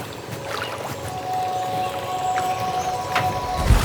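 A boat motor drones steadily beneath water noise and wind in Tatai, Cambodia, with occasional creaks and splashes, fairly close and continuous.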